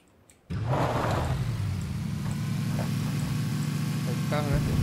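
A car engine runs steadily while driving in the video game PUBG Battlegrounds, a loud constant low rumble that starts abruptly and holds, with faint other sounds on top.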